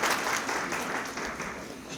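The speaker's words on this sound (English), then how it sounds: "That was an applause line." Audience applause during a State of the Community address on the city's riverfront, a short, dense burst of clapping from a crowd heard at moderate level.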